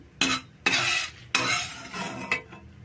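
Dried red chillies dry-roast in a pan without oil, and a spoon stirs and scrapes them in four separate close, rustling bursts with brief pauses between them; nobody talks.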